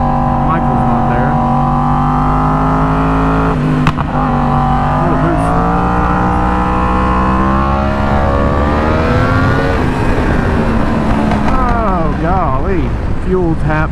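A Yamaha R1M sportbike on a track sight lap on cold tires, its engine droning loud and close as it rises and falls through the revs, with wind rush throughout and a rider talking over it.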